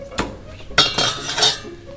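A metal spoon clinks against a bowl in a kitchen: a few sharp, close metallic taps and scrapes over about two seconds, with no talking.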